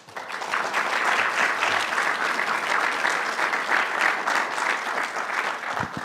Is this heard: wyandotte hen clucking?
no